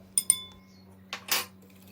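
A spoon mixes yeast and baking soda in a bowl for breakfast dough: two sharp metallic clinks, then a short pause, then a couple of close scraping swishes against the bowl, with no talk.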